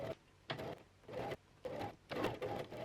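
Domestic sewing machine stitching piping around a corner of fabric, running in short bursts with brief pauses between them, close and fairly quiet with no talk.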